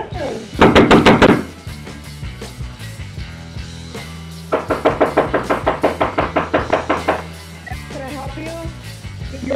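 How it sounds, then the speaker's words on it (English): Two bursts of rapid, loud knocking on a front door during a neighbouring house fire, a quick run of raps followed by a longer series after a pause, with a voice speaking between them. "I'm knocking on the door, there's nobody answering"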